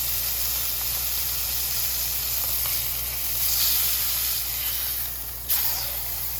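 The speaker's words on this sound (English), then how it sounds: "You're just trying to make a little sear so it will hold the juices in a little better." A beef roast sears in a hot pan for a crock pot roast, giving a steady, close sizzle and hiss that swells slightly midway, with no voices.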